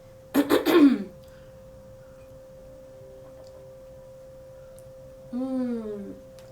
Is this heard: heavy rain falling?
no